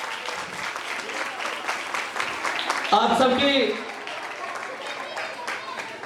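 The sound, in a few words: church congregation applauding Sunday school teachers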